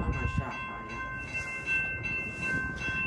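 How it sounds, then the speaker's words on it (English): A Metra commuter train, UP Northwest Line number 664, arrives at Barrington station, a close, loud rumble of rolling railcars with steady low mechanical drone and sustained horn-like tones. "UP Northwest Main Line train number 664 to Chicago OTC is now arriving"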